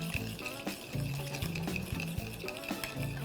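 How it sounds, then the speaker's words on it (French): A spoon stirs a green bean salad in a bowl as olive oil is worked in, giving close, soft scraping and clinking strokes in an uneven rhythm, with faint music running underneath. "Donc, on commence à mélanger le tout, comme ça."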